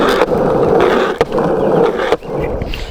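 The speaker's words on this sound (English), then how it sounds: "So that's actually the wheels stopping. They spin for a second and then stop." Thunder 161 skateboard wheels spin with a loud, steady, rough whirring and a strange droning noise, then stop, with a couple of sharp clicks along the way and no voices.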